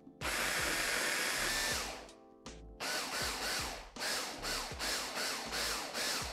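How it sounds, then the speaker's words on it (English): A blender purees peaches and mixed berries, first in one long loud whirring run that winds down, then in a series of short pulsed bursts, with no talking. "And then now we blend."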